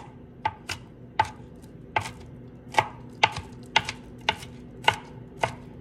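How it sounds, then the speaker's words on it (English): A knife rough-chops garlic on a cutting board, about a dozen crisp, close taps falling at an uneven, unhurried rhythm. "We got our garlic. We're just gonna chop it."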